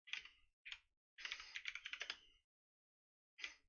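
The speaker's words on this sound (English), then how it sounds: "Heavy typing there, Trig." Heavy, forceful typing on a computer keyboard, close and alone, in three bursts of rapid clacking keystrokes separated by short pauses, with a longer dense run in the middle.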